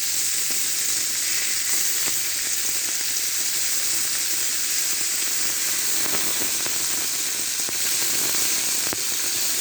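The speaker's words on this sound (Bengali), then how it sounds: "এটা লবণ, হলুদ, শুকনো মরিচের গুঁড়ো দিয়ে ভেজে নিচ্ছি" Fresh parshe fish frying in hot oil with salt, turmeric and dry chili powder, a loud continuous close-up sizzle with faint crackles and pops throughout, no talk.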